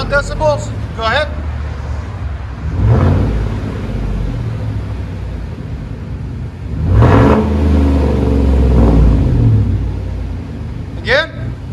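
Chevy Silverado 5.3L V8 through an aftermarket muffler and tips, rumbling at idle then revved in a couple of strong swells for a decibel reading, near and loud, with brief talk around the revs.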